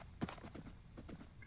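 A horse picks its way down steep cliffs in a video game, quick irregular hoof clops on hard ground, faint and close, with no speech.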